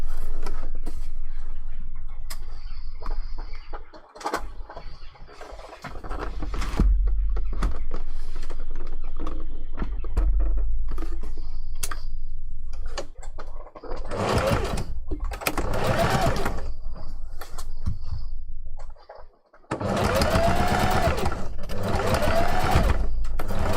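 A sewing machine back stitching the start and end of webbing on a fursuit kitsune fox tail; loud bursts of rapid, chattering stitches separated by short pauses, heard close up with no talking.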